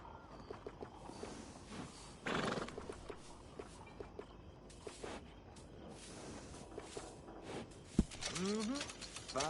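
Horse hooves clop and shuffle with a snort and a short whinny near the end in the video game Red Dead Redemption 2, under a voice speaking over faint background ambience.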